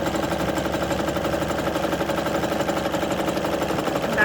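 A sewing machine runs steadily for the whole stretch while stitching a fabric party-hat cat toy, its needle chattering in a fast, even mechanical rhythm at close range with no pauses.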